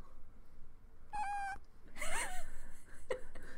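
A tiny cat meows close to the microphone, giving a short wavering cry, then a louder drawn-out call and a brief final mew over quiet room noise.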